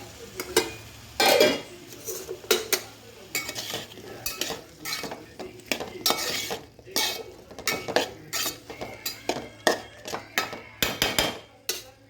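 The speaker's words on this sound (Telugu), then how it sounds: "ఇవి వేసుకొని కలిపేసేసి మూత పెట్టేద్దాం" Small chopped onions are stirred into a pan with repeated scraping and clinking of a utensil against the metal, then a lid clatters on; the knocks come in irregular bursts close by, with a faint hum underneath.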